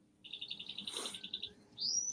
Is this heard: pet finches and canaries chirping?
yes